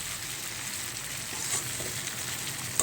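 Potatoes frying in a pan, giving a continuous close, even sizzle with faint stirring and no talk.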